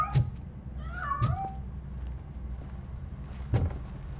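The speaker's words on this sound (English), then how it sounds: "That cat must be hiding inside. Let me lure it out." A cat in the video game RoboCop: Rogue City gives a single drawn-out meow over a low steady hum, with a few dull knocks scattered through it.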